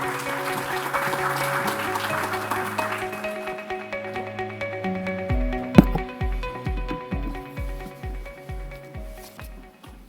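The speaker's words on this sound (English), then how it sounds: "Let's please give a warm round of applause to Engineer Fernando de Almeida Santos" Audience applause for Engineer Fernando de Almeida Santos, President of the Portuguese Association of Engineers, at a World Engineering Day event: steady clapping from a large hall over music, fading into a rhythmic musical beat with one sharp hit.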